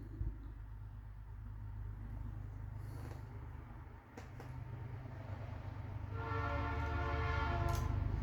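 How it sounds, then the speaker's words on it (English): A train passes close by with a steady low rumble and roar of rail wagons; a horn sounds near the end, rising over the noise. "It's a train."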